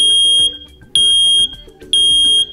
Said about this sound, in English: When an alarm is triggered, a loud 85 decibel T3 pattern chirp will alert you.